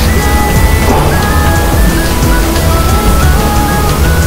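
Rain falling during a drive along a road, a steady dense hiss of water with a low rumble underneath, constant and fairly loud throughout with no voices.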